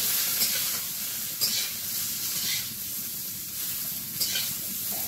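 Greens hiss and sizzle in hot oil with cumin in a home kitchen, a steady loud frying noise with a few soft stirring scrapes and no talk.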